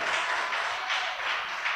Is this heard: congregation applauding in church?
yes